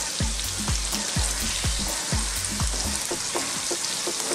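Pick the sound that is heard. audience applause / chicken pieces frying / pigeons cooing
chicken pieces frying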